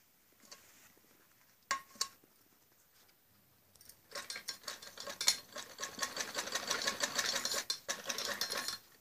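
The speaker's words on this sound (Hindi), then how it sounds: "पूरी पैड पे ऐसे ही सिलाई लगाई जाती है।" A sewing machine stitches along a padded blouse pad in short bursts, quiet at first with a couple of isolated clicks, then a steady close whirring run of stitching through the second half.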